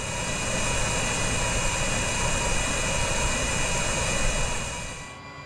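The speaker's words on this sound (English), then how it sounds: "The props will start to spin as engine 2 powers up." MV-22 Osprey tiltrotor in Microsoft Flight Simulator spooling up during engine start with nacelles at 90 degrees, a loud steady turbine whine and prop roar holding constant before fading toward the end.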